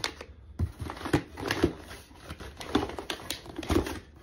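A plastic bag for a Cologuard test kit is pressed shut, giving a run of close, crisp clicks and crinkles in an irregular rhythm with short pauses between them.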